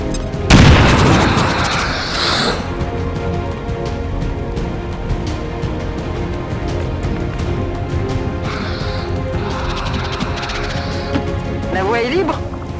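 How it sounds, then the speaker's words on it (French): A grenade detonates in the XCOM 2 War of the Chosen video game, one loud booming blast near the start followed by a rumbling tail, with game voices and effects continuing around it. "Je leur jette une grenade!"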